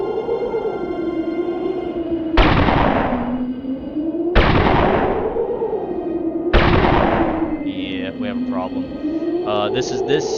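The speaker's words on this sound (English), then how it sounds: "this is the missile launcher I was talking about" Three booming missile launches and explosions in the game Spec Ops: Ranger Elite, spaced about two seconds apart, each a sharp loud blast decaying into a rumble, over continuous talking.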